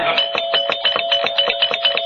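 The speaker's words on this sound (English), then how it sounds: "I think I detect her gentle touch on the doorbell." Doorbell on a vintage radio comedy set in a home, ringing as a rapid, steady train of bright buzzing pulses that continues unbroken for about two seconds, loud and close with no voices over it.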